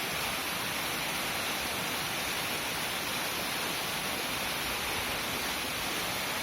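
A Himalayan mountain waterfall on the trek between Chaplung and Namche Bazar rushes down from high ground, a dense, even roar of falling water, steady and unbroken with no voices.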